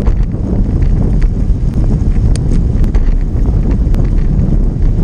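Wind from the southeast rushes across the microphone during a group road bike ride, making a loud, continuous low roar with faint ticks and rattles and no talking.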